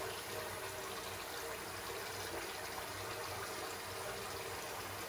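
Water splashing onto a face during a wet shave, a steady broadband wash of running and splashing water held at an even level throughout, close and alone with no voices.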